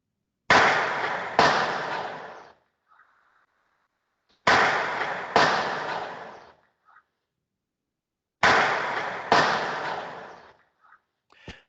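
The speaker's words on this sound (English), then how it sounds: "So we can hear 2 gunshots" Three pairs of sharp gunshots in a forensic audio recording, each pair two closely spaced loud bangs with short decays, separated by silence and a few faint small noises.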